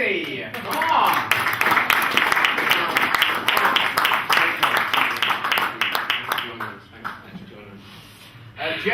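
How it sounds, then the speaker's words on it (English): A studio audience claps steadily for a comedy guest, a dense sustained wash of applause that fills the whole stretch and tapers slightly near the end. "Nice round of applause."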